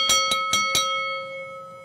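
A boxing match bell rings four quick, bright metallic strikes in a row, and the tone rings on and fades, with no voices over it.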